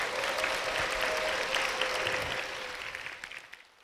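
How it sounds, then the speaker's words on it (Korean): A church congregation at Full Gospel Bupyeong Church bursts into hearty applause, steady and dense, then tapers off into scattered claps and fades to quiet at the end. "여러분 힘찬 박수로 부탁드립니다"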